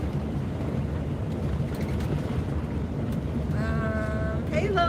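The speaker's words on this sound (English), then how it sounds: "It's super windy right now" Strong wind buffets a vehicle on the road toward Quartzsite, a steady, loud roar filling the whole clip, with a brief tonal whine and rattle near the end.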